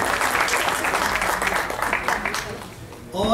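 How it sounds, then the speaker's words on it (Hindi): Audience at a mushaira and kavi sammelan poetry gathering claps steadily in a full, sustained round of applause, tapering toward the end before a voice briefly cuts in. "मैं आप सब की भरपूर तालियों में अभिनव शुक्ला साहब से गुजारिश करूँगा।"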